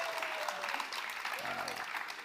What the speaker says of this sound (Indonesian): kasih tepuk tangan dulu buat mereka berdua